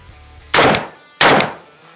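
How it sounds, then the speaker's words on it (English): Two sharp, loud AK rifle shots fired into an RMA ballistic armor plate, each a short burst of a few rapid cracks with a fading tail, separated by about half a second of quiet, outdoors with no talk. "Let's go load up a bunch of rounds and just light up into this thing."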